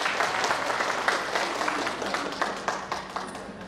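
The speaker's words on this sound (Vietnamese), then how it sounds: "chào vỗ tay được không ạ" An indoor audience at a Lunar New Year office gathering claps in a sustained burst of applause, dense and close with scattered sharper claps, no speech over it.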